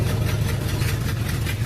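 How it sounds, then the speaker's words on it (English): A cold truck engine with a cam, idling a little too low, rumbles steadily up close with a loping, uneven low throb and no revving. "The idle's down a little bit too low. I think the idle needs turned up a little bit on it."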